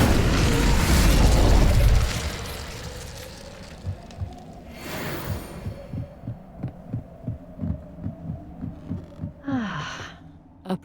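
A fire spell cast in Hogwarts Legacy, opening with a loud whooshing burst that fades into a low hum, followed by a steady series of soft rhythmic thumps and a bright shimmering flare near the end.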